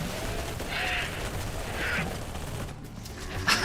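Rapid SMG fire during a Halo 3 legendary campaign, a steady stream of automatic shots mixed with game battle noise, loud and close throughout.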